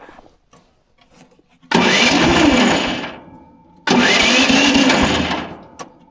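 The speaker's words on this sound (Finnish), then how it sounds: "Nyt aina kun käynnistää, niin tää moottori lähtee tästä pyörimään" A 2025 ST135 Pro2 ATV engine cranks and catches twice, each burst revving loud for about two seconds before dropping away, with quiet clicks and handling noises between.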